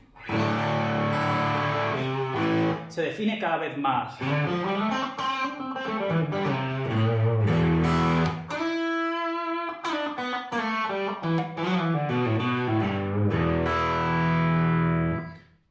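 A Fender Stratocaster electric guitar plays through distortion, loud sustained notes and bending phrases ringing with thick overdriven tone; a voice speaks briefly partway through.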